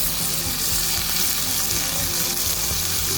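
Spices tempering in hot coconut oil, a loud, steady sizzle and crackle of frying that fills the whole stretch without pause, with faint watery hiss on top and no voices.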